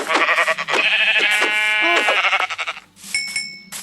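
A loud, close sheep bleat from Minecraft Java Edition with a wavering, drawn-out cry, followed by a short pause and a bright chime-like tone.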